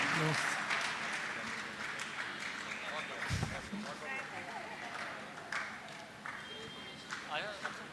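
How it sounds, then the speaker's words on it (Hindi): Faint, somewhat distant applause from a gathering welcoming guests at a Jain religious question-and-answer session with a muni, scattered and uneven, with voices talking over it. "आप लोग जोरदार तालियों से एक बार फिर से स्वागत अभिनंदन करें"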